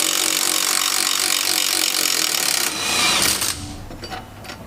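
A power tool whirs loudly as it backs a 15 mm bolt out of the suspension of a 2014-or-later GMC Sierra or Chevrolet Silverado, then stops, followed by a few light metallic clicks.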